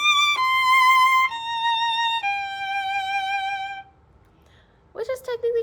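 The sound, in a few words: violin excerpt played without going back to the frog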